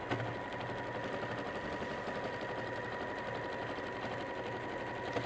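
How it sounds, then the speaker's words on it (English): Steady, rapid mechanical chatter of a sewing machine reverse stitching through fabric, running continuously at an even pace, fairly quiet and close, with no voices over it. "we're simply going to reverse stitch and sew along this line"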